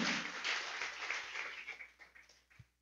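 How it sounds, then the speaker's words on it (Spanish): A church congregation applauds together, a soft, fairly distant wash of clapping that gradually thins out and fades over a few seconds. "Denle un aplauso al Señor por eso"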